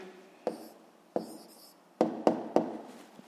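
A pen writes an answer for a grade 7 physics exercise, giving short scratchy strokes in a quiet room, with several separate taps and scribbles spread across a few seconds and no talk.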